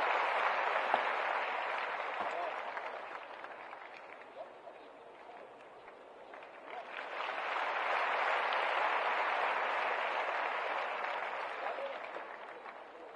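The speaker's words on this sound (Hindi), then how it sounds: "तालियां बजती रहनी चाहिए" Crowd applause at a political rally in Bihar, a steady broad wash of clapping that dips briefly midway and then swells again, heard from a distance.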